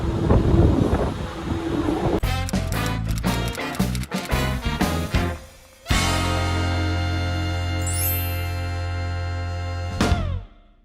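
Disney World Skyliner gondola cabin riding along the cable, with a steady rumble and hiss of wind, rattling clunks and a rising whine as the cabin passes through a station, loud and close throughout.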